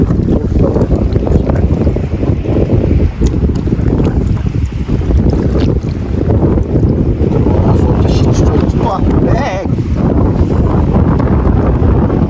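Strong wind roars continuously across the microphone at sea beside a fish corral during netting, loud and buffeting throughout, with water noise underneath and faint voices in the background.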